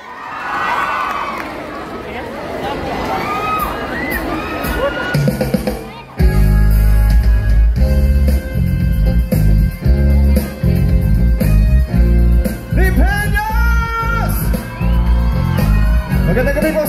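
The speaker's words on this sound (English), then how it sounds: "A round of applause for John Rex!" A concert crowd at All Out Sunday's Pride cheers and whoops for John Rex, the Clash Season 5 grand champion. Loud shouts rise at first, then heavy bass-driven music kicks in and the crowd keeps yelling under it.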